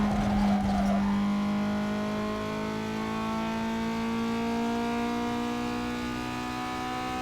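A race car in the racing game Need for Speed Underground 2 on a lap, its engine droning steadily at high revs with rising and shifting tone, loud and continuous, alone without talk.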